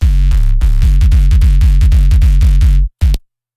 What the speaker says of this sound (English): I'll start with the sub bass.